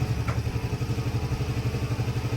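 A motorcycle engine idles while warming up for about ten minutes before an oil check, its steady, even low thumping pulse running close and loud without pause.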